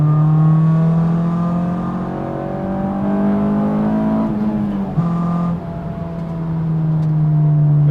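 Honda S2000 fitted with an Invidia Q300 exhaust heard from inside the cabin while driving, a steady droning engine note that swells and eases through gear changes and throttle shifts, no talk.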